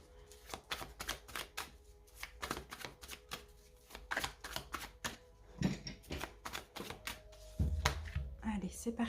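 Tarot cards cut and shuffled by hand during a reading, giving a run of quick, crisp riffling clicks in steady bursts, fairly close, with a voice talking over parts of it.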